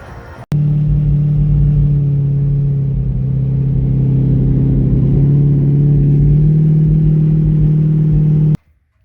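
A 2008 C6 Corvette fitted with a newly installed 6L80 transmission drives steadily, its engine holding a loud, even drone with a low rumble for about eight seconds before cutting off abruptly.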